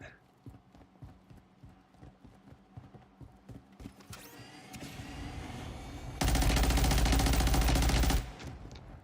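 Video game gunfire: scattered clatter and mechanical noise build up, then a loud, sustained burst of rapid shots lasts about two seconds before cutting off.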